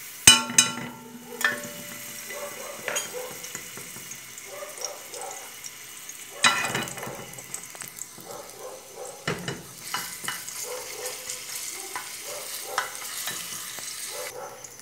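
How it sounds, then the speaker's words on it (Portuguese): A garlic clove and half an onion frying in a pan, with intermittent sizzling, stirring clatter and scraping, and brief splashes of running water in between. "só para me fritar um dentinho de alho e meia cebola"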